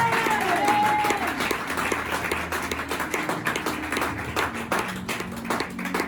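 A church seminar congregation applauds in praise, a dense, sustained patter of many hands clapping together, fairly loud and close, with voices mixed in.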